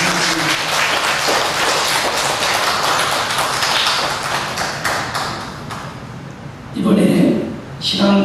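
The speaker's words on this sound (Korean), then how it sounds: "응원의 박수 보내주시면" A church congregation at a Sunday service claps in sustained applause, loud and continuous, with a voice speaking over it near the end.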